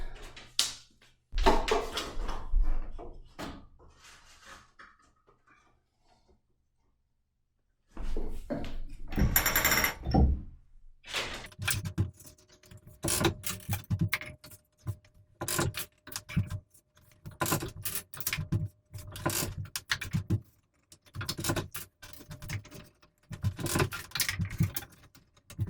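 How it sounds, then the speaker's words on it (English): Warp threads winding onto a loom beam produce repeated wooden clunks and creaks in uneven bursts, with a quiet gap early on and then steady intermittent knocking, close and fairly loud. "So now when my warp starts wrapping around the beam"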